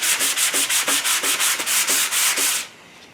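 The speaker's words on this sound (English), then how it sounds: "I'm letting the sandpaper do the work" Sandpaper rubs by hand over body filler on a 1969 Ford Mustang fender in rhythmic back-and-forth strokes, about a dozen even passes close up before stopping, with no voices.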